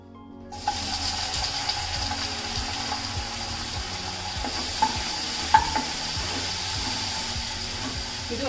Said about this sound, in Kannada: ಇನ್ನು ನೆಕ್ಸ್ಟ್ ಟೊಮೆಟೊ ಹುರ್ಕೊಳ್ಳೋಣ.